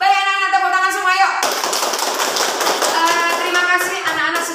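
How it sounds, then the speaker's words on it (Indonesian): Children clapping hands together in a classroom, a dense burst of many small hands that starts abruptly after a sustained tone and continues close and loud with irregular sharp slaps. "Baik anak-anak, tepuk tangan semua yuk"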